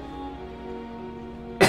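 A single sharp chesty cough bursts out near the end, loud and close, after a stretch of steady tonal background music.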